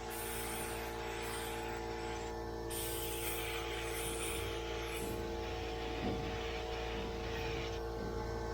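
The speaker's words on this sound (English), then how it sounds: "I'm just going to put a couple of good coats of primer on there, on all the bare metal." A spray gun lays primer coats onto bare sanded metal of a 1969 Chevy van, a steady airy hiss over a constant compressor-like hum that continues throughout with no one speaking.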